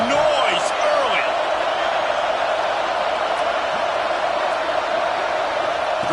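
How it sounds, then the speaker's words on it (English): A football stadium crowd roars with a steady, dense wash of cheering noise and scattered whistles, while a commentator talks over it throughout. "This crowd bringing the energy and noise early."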